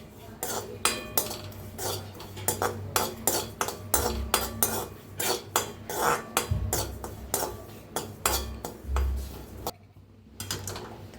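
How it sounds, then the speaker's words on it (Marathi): A metal spatula scrapes split mustard seeds being lightly dry-roasted in a pan for mango pickle. The strokes are steady and rhythmic, with a brief pause near the end. "त्याला बी हलकंसं भाजून घेऊया."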